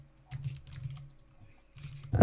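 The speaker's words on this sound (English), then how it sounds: "Hopefully my horrible keyboard is not too loud." Bursts of clicky typing on a loud, cheap-feeling computer keyboard, coming in two flurries with a quiet gap between and a sharper clack at the end, close to the microphone.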